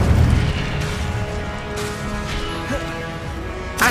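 A fire spell cast in Hogwarts Legacy on PS5 bursts out at the start with a loud, low rumble. A game music bed runs beneath it, and a second whooshing blast closes the sequence.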